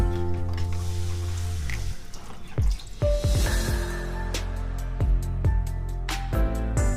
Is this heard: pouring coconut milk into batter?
yes